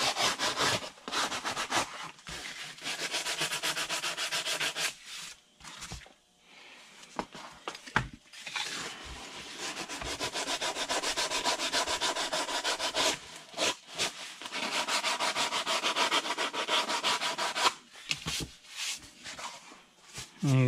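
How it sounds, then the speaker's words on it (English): Sandpaper rubbed along the edge of a foam model aircraft wing, loud close rasping strokes in long steady runs broken by brief pauses, with no talking. "I'm gonna take some sandpaper and just kind of clean my edge."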